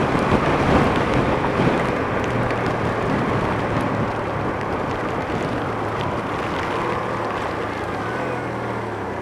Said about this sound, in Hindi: तो ये देखो बारिश शुरू हो गई इतनी तेज़